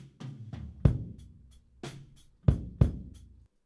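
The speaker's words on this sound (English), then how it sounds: "this is what the kick sounded like just with the mix bus processing" A processed kick drum thumps in a short mixed drum pattern, several punchy low hits at uneven spacing with lighter percussive taps between them, heard alone and close.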